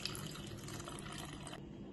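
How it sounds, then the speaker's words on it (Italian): Room-temperature water poured into a well of type 0 flour in a bowl, a steady close splashing trickle running continuously for nearly two seconds before stopping abruptly near the end. "Faccio un buco al centro e verso all'interno 250 ml di acqua a temperatura ambiente."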